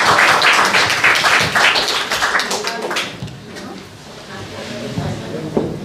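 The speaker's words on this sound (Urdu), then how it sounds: "تالیاں ہونی چاہیے بھائی بھرپور." Audience applause at an Urdu poetry gathering, an Eid Milan mushaira held by Bazm-e-Urdu in London, with dense, loud clapping at first that thins and fades into quieter room noise and a few scattered claps.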